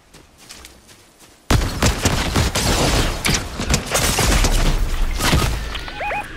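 Gunfire from a fight in the video game Fortnite erupts suddenly after a quiet start, then rattles on as loud, rapid, continuous shots with booming impacts and shattering.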